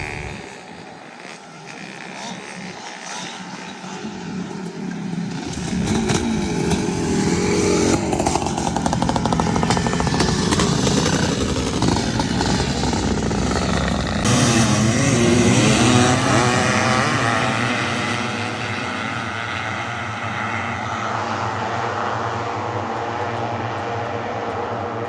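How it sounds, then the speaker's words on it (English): A 1993 Honda CR250R two-stroke dirt bike with a big-bore 500 engine on race gas, heat soaked, idling and then revving up into a loud sustained buzzing drone before settling back to a lower steady run, up close. "Heat soaked now, the engine's just hot."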